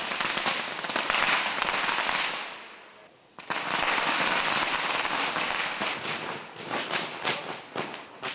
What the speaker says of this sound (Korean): 한켠에서 들려오는 요란한 소리의 정체는 폭죽입니다